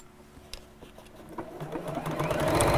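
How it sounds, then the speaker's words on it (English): A sewing machine stitching straight across the end of a fabric gift bag starts with a few light clicks, then builds into a steady, close, whirring run that grows louder toward the end. "we're going to sew straight across the end"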